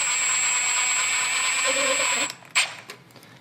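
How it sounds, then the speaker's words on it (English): A power screwdriver drives screws into a new electrical outlet receptacle on a junction box, whirring steadily and loudly for about two seconds before stopping, followed by a short clack and faint handling noise. "screw the new receptacle down. Get both screws started."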